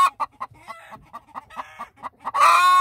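A broody Korean native hen sitting in her nest gives a steady run of low, pulsing clucks, close and distinct, before breaking into a louder, drawn-out squawk at the end.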